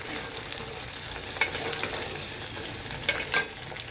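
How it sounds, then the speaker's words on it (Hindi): Roughly chopped medium onion frying in a pan until brown, a close, steady sizzle with occasional louder stirring scrapes, no talking. "हम इसको ब्राउन करेंगे, प्याज को अच्छे से ब्राउन करना हमको।"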